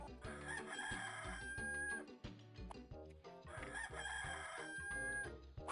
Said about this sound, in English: if you hear the hen crowing, or the rooster crowing at the same time that you're dying, that means you got it